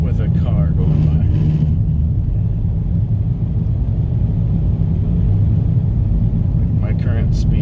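A car driving over Washington's White Pass at about 52 mph, with a loud, steady, close road and engine rumble that holds throughout.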